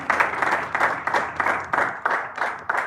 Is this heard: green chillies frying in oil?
no